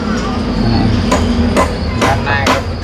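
A hammer lands four sharp blows at uneven intervals, each a crisp close thwack over a steady low rumble of background noise.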